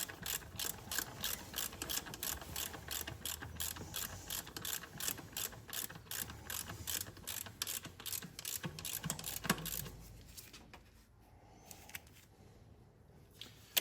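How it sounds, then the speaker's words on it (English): Bolts being tightened with a hand ratchet while working on a Porsche 911 Carrera 4S engine bay, rapid close clicking in quick bursts for about ten seconds, then stopping and leaving quieter handling sounds. "I'm just putting them back and giving them just enough torque."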